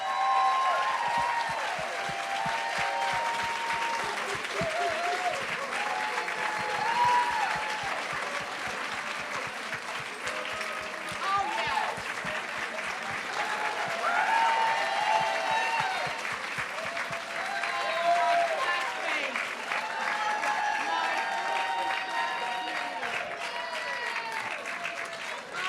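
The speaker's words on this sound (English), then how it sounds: "let's all give a big applause because Adri's in the house" Sustained audience applause fills a hall at a college alumni conversation event, steady dense clapping that rises and falls slightly over many seconds, with faint crowd murmur and cheers underneath.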